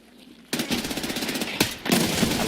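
Rapid automatic gunfire from a first-person shooter game, fast rhythmic bursts that pause briefly and resume, loud and close.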